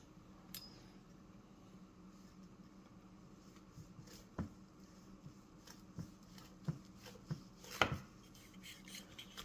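A knife works through a juicy smoked turkey that was cooked from frozen and basted with butter, cutting thinner slices: soft scattered taps and scrapes of the blade against a board, fairly quiet over a low background hum, with a few sharper clicks near the end.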